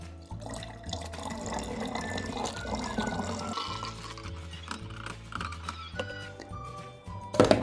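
Liquid organic bio-farming fertilizer is poured through a funnel, and the trickling, filling sound runs under background music with a pulsing bass line.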